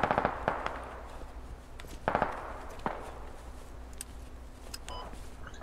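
Grenade launcher explosions in the military shooter game Squad: several sharp, mid-distance blasts land in a loose sequence over a low ambient rumble, with a couple of smaller cracks near the end.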